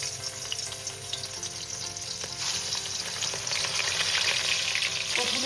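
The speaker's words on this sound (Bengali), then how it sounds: "প্রথমে আমি 3 পিস মাছ ভেজে নিচ্ছি" Hilsa fish pieces that were rubbed with salt and turmeric fry in hot oil in a kadai, giving a steady, dense sizzle that grows slightly louder toward the end, close and with no voices.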